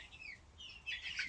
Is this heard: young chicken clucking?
yes